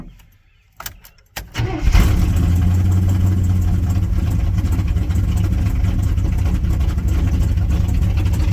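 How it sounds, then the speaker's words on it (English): K20 engine cranks over with a few brief bursts after near silence, catches and settles into a loud, steady rumbling idle with light throttle, close by, no talking. "let's start this up. Give it a little gas here."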